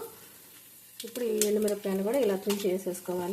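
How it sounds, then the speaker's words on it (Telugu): Tempering spices (split lentils, mustard seeds, chana dal, cumin and dried red chillies) fry and crackle in hot peanut oil, a steady sizzle running beneath continuous speech. "చూసారా ఎలా వేగుతున్నాయో చిట్టపట్ట చిట్టపట్ట సౌండ్ చాలా బాగుంటుంది ఆ సౌండ్"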